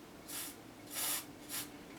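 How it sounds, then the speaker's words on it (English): Cleaner sprayed into the fader of a National RX-5100 cassette deck: three short hissing bursts, the middle one longest, close and clear over a quiet background hum. "I'm just going to spray this in here like this"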